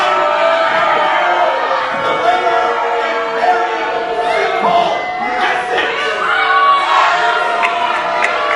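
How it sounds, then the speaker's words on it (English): A large crowd at a wrestling show in Barrie cheers and shouts loudly and continuously, a dense wall of voices with whoops rising from the roar. "We could barely hear the executive consultant over this crowd."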